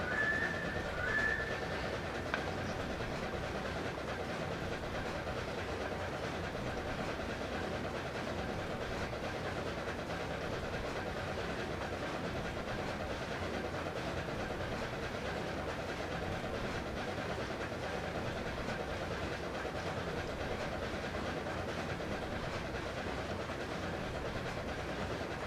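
East Broad Top narrow-gauge train running past McMullen Summit, a steady, continuous rumble and rolling noise held at an even level with a brief high whistle-like tone near the start.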